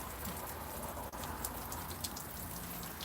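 Water from a shower spray falls on a pet bird on a warm day, a steady hiss of droplets pattering close by, continuous and even throughout with no voices.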